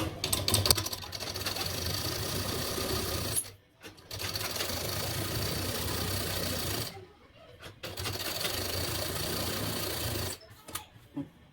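A sewing machine runs a straight seam on a Bombay cut blouse, whirring steadily and close up in long runs broken by three brief stops.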